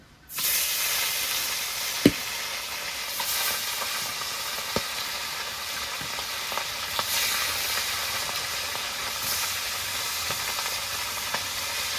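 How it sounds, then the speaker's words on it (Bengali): Tilapia pieces frying in hot oil in a wok, a constant close sizzle with scattered small pops and one sharp clack early on, with no talking. "এদিকে আমার কড়াইতে তেলটাও গরম হয়ে গেছে এবার মাছগুলো ভেজে নেব"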